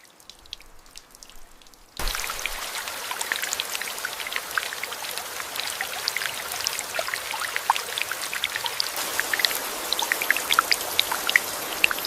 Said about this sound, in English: On the surface, it's just another rainy day.